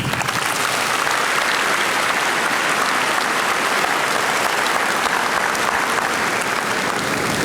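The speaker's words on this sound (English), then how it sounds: "give yourselves a round of applause" A large audience at a school district convocation applauds in a dense, continuous roar of clapping that holds steady and loud from start to finish.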